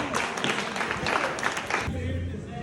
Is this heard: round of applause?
yes